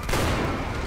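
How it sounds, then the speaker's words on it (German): A barrel explodes in the Far Cry 4 video game as a sudden loud blast at close range, its dense roar filling the whole second without a break. "Das Fass ist explodiert."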